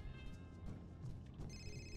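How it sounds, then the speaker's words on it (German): Telephone ringing in the video game Fahrenheit: Indigo Prophecy, a faint steady electronic ring with sustained tones over low game ambience, swelling slightly in its second half. "das Telefon klingelt."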